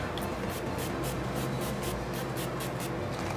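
Rapid bursts of fine spray from a matte finish makeup setting spray hiss in quick succession, over a dozen short pumps in a steady rhythm, close and fairly loud.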